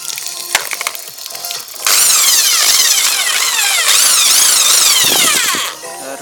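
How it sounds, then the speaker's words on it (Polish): A power drill fitted with a paddle mixer whirs loudly as it stirs tile adhesive in a bucket of water, its whine rising and dipping for several seconds after a few clanks, then cutting off. "Bierzę wiertarkę z mieszadłem."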